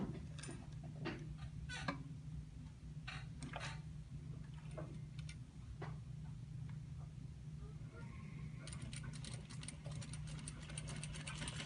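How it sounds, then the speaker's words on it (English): Sewing machine stitching a hem line on a kick pleat sample, a steady low motor hum with faint ticking running throughout, fairly quiet, with a denser burst of stitching rattle near the end. "this time we're stitching along the hem line"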